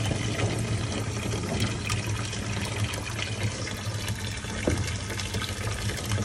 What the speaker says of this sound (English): Now we're going to put a couple of inches of water in it and just start cleaning.